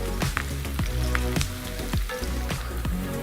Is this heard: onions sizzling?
yes